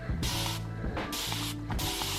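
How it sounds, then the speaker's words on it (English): Koh cleaner sprayed onto a greasy deep fat fryer in three loud, close hissing bursts from a trigger sprayer, separated by short pauses, with no talking. "We'll spray that on there and leave it for a little bit."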